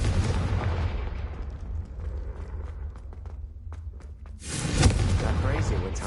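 A Confringo fire spell bursts in Hogwarts Legacy, a loud booming blast that swells over a continuous low rumble of game sound, with voice and music around it.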